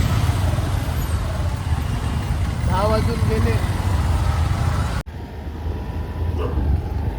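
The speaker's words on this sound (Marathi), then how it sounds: "मजबूत ट्रॅफिक आहे मजबूत" Heavy road traffic in rain near Thane makes a dense, steady roar of engines and wet tyres close by, with a brief horn-like tone in the middle, while a person talks over it.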